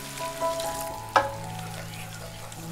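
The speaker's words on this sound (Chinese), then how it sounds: "再倒入200毫升清水" Water, 200 ml, poured into a hot pan for a Southeast Asian curry crab after sugar and stir-frying, giving a close, loud burst of sizzle with a sharp splash partway through, then a steady bubbling hiss.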